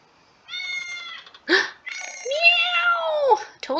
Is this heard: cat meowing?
yes